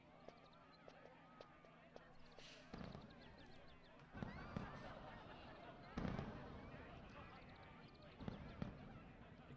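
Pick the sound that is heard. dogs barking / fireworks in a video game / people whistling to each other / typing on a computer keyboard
fireworks in a video game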